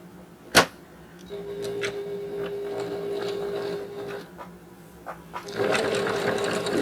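A home sewing machine stitches around a quilted gnome applique on a table runner, running steadily for a few seconds with a whirring hum, then picking up again louder after a short pause.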